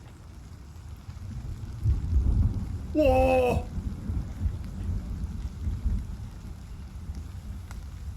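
Within the video game Road to Vostok, steady rain patters through a thunderstorm as deep rolling thunder swells, while a man gives a short startled exclamation.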